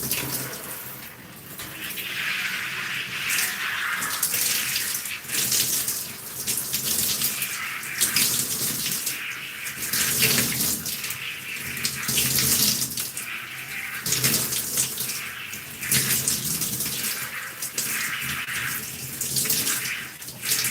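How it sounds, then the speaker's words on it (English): Water pours steadily from a running tap or shower while hair is rinsed of conditioner, a continuous close splashing with shifting surges as the stream hits hair and hands. "Making sure I'm rinsing my hair."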